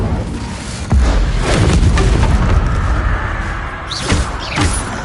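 Incendio fire spell blasts in Hogwarts Legacy combat go off as heavy booming bursts, one sharp hit followed by a sustained roar and two more impacts near the end, loud and close.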